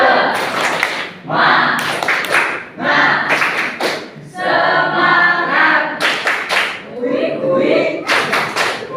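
A classroom group chants and claps in a rhythmic cheer, sharp bursts of hand claps alternating with loud shouted voices, close and energetic throughout.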